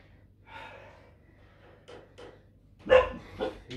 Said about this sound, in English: Dogs are barking at the sheep.